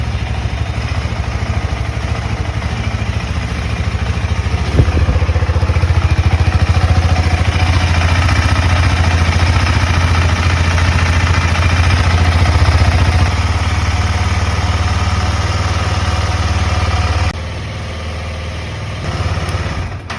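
A KTM Adventure 250 or 390 motorcycle engine, which has a first-start hiccup fault, runs loud and close at a steady idle with a low rumbling clatter. The level drops slightly near the end.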